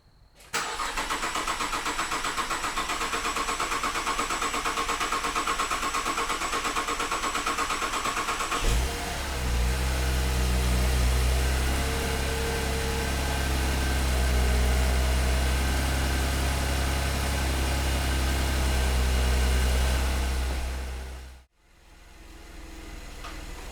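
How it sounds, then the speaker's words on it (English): A 2008 Cadillac CTS with the GM 3.6L direct-injection V6 cranks briefly and fires, then settles into a steady, loud idle heard up close for a long stretch before cutting off abruptly. "So I'm going to push the pedal to the floor, build oil pressure, release, and we should have ignition."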